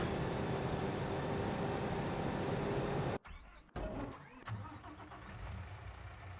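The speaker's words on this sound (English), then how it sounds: "We'll hop in our truck and load this bale up." A truck in Farming Simulator 25, its steady engine noise cutting out abruptly before a clunk and a fresh start that settles into a lower idle, all fairly close with no voices.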